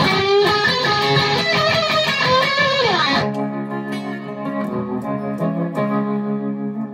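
Electric guitar solo run through a Boss ES-8 loop switcher pedalboard, bright and effected with dense sustained notes, then an abrupt tone change about halfway into cleaner held chords and single notes, loud and alone.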